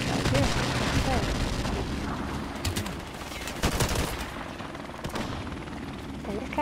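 Airstrike explosions and gunfire in a Call of Duty: Modern Warfare Remastered multiplayer match: sharp bursts and booming blasts come in clusters over a steady battle din, with players talking over the noise.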